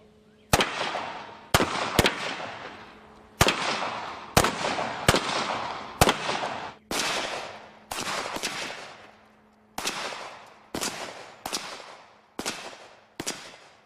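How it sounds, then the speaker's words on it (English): About fourteen sharp, loud handgun shots crack at a car gasoline tank in irregular bursts, some in quick pairs, each followed by a brief ringing decay, with no talking. "But what happens if you get multiple shots all at the same time?"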